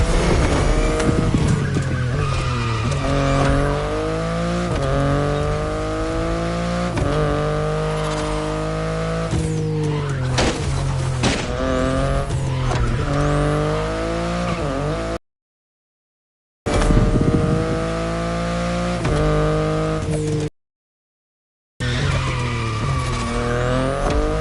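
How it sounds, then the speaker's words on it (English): A BMW i8 sports car driven in the video game The Crew Motorfest, its engine revving and shifting continuously with tire squeals and skids, loud and close, broken by two short silent gaps. "the compact i3 and the i8, the sports car you're driving."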